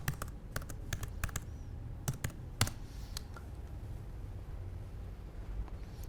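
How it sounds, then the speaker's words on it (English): A password is typed quickly on a computer keyboard: a rapid cluster of crisp key clicks up front, a few more taps, then near silence with only faint background hum. "Type the wrong password."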